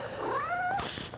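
A pet cat gives a single rising then falling meow, close and fairly loud, lasting about a second indoors.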